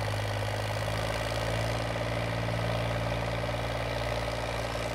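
A Mahindra 265 tractor, a 30 hp model, labours under load in a farm field. Its engine drones loud and close with a steady low diesel thrum and knocking pulses that hold constant for five seconds, with no voices.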